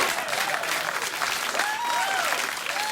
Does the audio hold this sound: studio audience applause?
yes